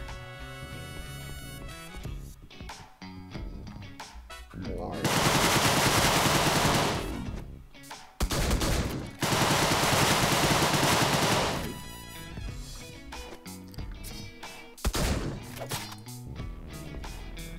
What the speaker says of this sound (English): Get that Tommy gun.